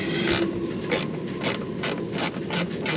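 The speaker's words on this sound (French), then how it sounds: "Il y a plein d'embouts, le cliquet." A ratchet from a Facom Nano tool box clicking near and loud, about seven evenly spaced bursts of rapid pawl ratcheting with no talk over it.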